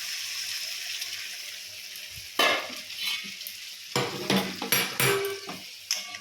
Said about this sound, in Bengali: এবার আমরা একটু গরম জল দিয়ে দেবো